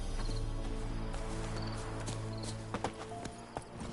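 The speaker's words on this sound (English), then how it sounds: "Run, Roach." A horse in The Witcher 3 moves at speed over ground, its hooves drumming as a loud run of clip-clop beats over steady game ambience, with a few sharper thuds near the end.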